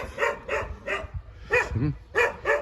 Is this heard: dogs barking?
yes